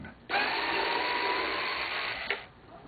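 An electric screwdriver backs a screw out on a player piano vacuum pump check valve: one close, steady whirring burst of about two seconds that stops abruptly, with no speech.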